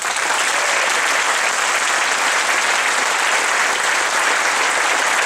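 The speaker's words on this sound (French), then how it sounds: "On l'applaudit très fort." Sustained, loud applause from a large audience, steady and dense throughout with no voices standing out.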